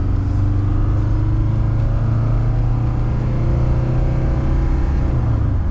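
A 1977 Mercedes 300D diesel car with 365,000 miles climbs a hill incline, its engine droning loud and steady with a low, rough diesel hum from inside the cabin.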